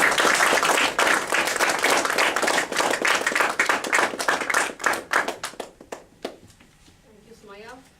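An audience at an officers installation ceremony applauds a keynote speaker, with thick clapping that thins into a few scattered claps and fades out over several seconds. Faint speech follows at the end.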